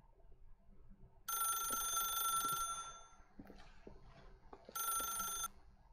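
A telephone in The Stanley Parable rings in two long bright trilling bursts separated by a quiet gap, clear and fairly close, with faint footsteps or soft knocks between the rings.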